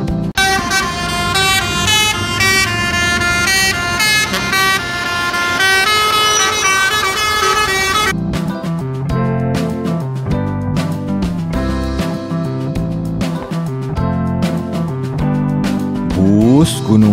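A Blue Star bus sounds its telolet horn, a loud, close, melodic run of bright musical tones that plays continuously for several seconds, followed by further staccato horn notes over road noise.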